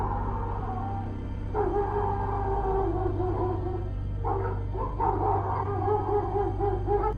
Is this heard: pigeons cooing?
no